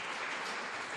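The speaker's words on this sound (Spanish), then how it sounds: "Un fuerte aplauso, por favor." Church congregation at a Mass claps together in a brief burst of applause, a soft, even patter of many hands heard at a moderate distance.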